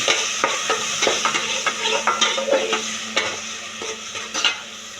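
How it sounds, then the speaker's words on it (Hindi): Onions sauté in hot oil for Kolhapuri sukkha mutton, a close, continuous sizzle broken by frequent rhythmic scrapes and taps of a spatula stirring the pan. "अभी हम ऑनियन को अच्छे से थोड़ा सा करेंगे सौते"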